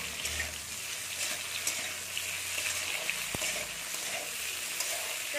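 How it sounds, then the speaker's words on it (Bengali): Brinjal pieces frying in a pan make a quiet, continuous sizzle with occasional light stirring scrapes and a single brief tap, close by and without speech. "বেগুনগুলো দিয়ে দেবো। দেখুন বেগুনগুলো দিয়ে একটু নেড়ে নেবো।"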